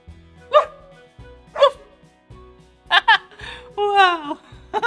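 A person imitates a dog, giving several short, loud woof-like barks in a steady rhythm, then a longer whiny yip near the end.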